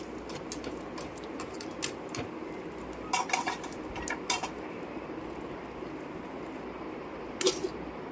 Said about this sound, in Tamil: முந்திரி திராட்சை நல்லா பொன்னிறமாக வறுத்து போட்டுக்கலாம்